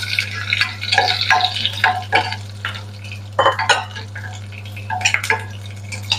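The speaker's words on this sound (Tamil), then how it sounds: "இப்படி பொறிஞ்சு விரைக்க நாங்கள் பச்சை மிளகாய் சேர்த்துக் கொள்ளுவோம்" Green chillies go into hot oil with fried mustard seeds, cumin and fenugreek for a beetroot milk curry, bringing a soft sizzle broken by repeated scraping and clinking of a spoon against the pan, over a steady low hum.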